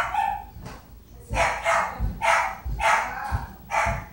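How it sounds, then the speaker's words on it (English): A pet dog barks repeatedly in another room upstairs, a series of sharp, fairly loud barks and yips in uneven bursts, with a short whimpering sound before them. "My dog will not be quiet up there."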